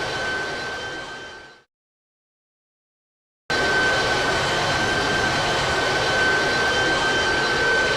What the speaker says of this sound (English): The aircraft cruises steadily in the darkness above international waters